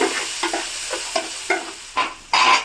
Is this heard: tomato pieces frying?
yes